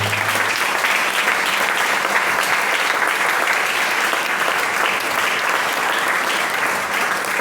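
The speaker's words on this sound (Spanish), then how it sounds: "¿Por qué no le da un aplauso al Señor?" A church congregation applauds during a sermon, steady massed clapping that stays full and even throughout with no voices standing out.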